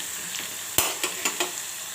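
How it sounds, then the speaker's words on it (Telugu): Green chillies sizzle steadily in a hot pan of oil while making tamarind rice, with a few sharp stirring scrapes and clicks standing out over the constant hiss; no voices. "పచ్చిమిర్చి వేసిన తర్వాత వీటిని కొద్దిగా వేగనించుకోవాలి"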